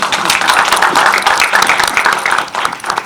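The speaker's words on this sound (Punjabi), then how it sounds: "ਤਾਲੀਆਂ ਤੇ ਮਾਰੋ।" A crowd claps at the Shamshera film promotion event in Chandigarh with Sanjay Dutt, Ranbir Kapoor and Vaani Kapoor. The applause is dense and steady for a few seconds, then thins slightly, with voices mixed in.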